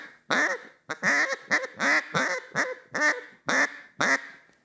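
A hunting duck call is blown in a steady series of about eight loud, close quacks, each a short nasal burst with brief gaps, imitating a duck with no other sound.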